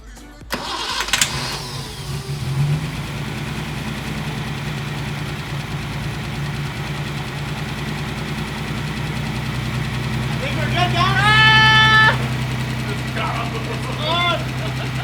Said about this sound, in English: It's running under its own fuel.